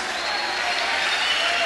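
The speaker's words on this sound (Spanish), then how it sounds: "¡Aplauda fuerte!" A church audience claps loudly and continuously, dense applause filling the room with crowd noise throughout.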